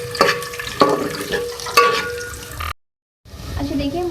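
Onion frying in ghee in a home kitchen pan, stirred now and then, with sizzling and a few louder scraping strokes, a short silent gap, then softer frying that resumes alone without talk.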